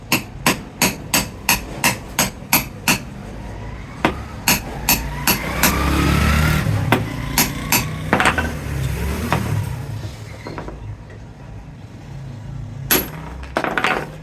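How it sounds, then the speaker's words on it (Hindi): A hammer drives a bearing onto a pedestal fan motor, striking an old bearing placed on top. About ten rapid, sharp, evenly spaced metallic taps come first, then scattered heavier blows and a few final knocks over a low background rumble. "हथौड़ी से इसमें चोट लगाएंगे जितना हमने बैरिंग फिट करना है।"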